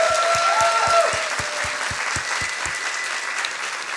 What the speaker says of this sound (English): So a big applause for everybody of us.